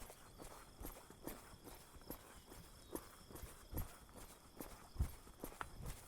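A ridden horse walks steadily outdoors, its hooves clip-clopping in an even rhythm of soft, fairly faint thuds, with no talk over it.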